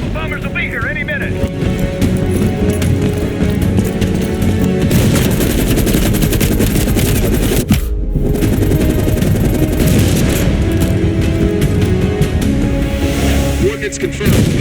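Sustained machine gun fire rattles loudly and continuously in a Call of Duty Black Ops Cold War battle, with a brief break near the middle, explosions and game voices mixed underneath.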